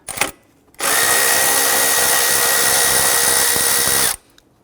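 Power tool removing 10mm bolts from a metal intake bracket on a 2005-2021 Nissan Frontier 4.0L V6, a single loud, close, sustained high-pitched whirring burst of about three seconds, preceded by a brief click.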